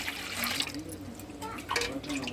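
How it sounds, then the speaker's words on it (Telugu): Water poured from a glass onto sago pearls (sabudana) being soaked for a jaggery payasam, a faint, short splashing trickle in a quiet kitchen. "ఒక గ్లాస్ సగ్గుబియ్యంలోకి నాలుగు గ్లాసులు వాటర్ అనమాట కొలత తీసుకొని పోసుకోవాలి"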